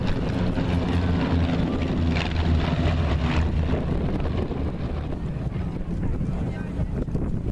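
Aircraft of the Falcon Flight team flying in Delta formation at the 2014 Hondo Airshow, a steady loud broadband engine roar buffeted by wind noise on the microphone, continuous throughout.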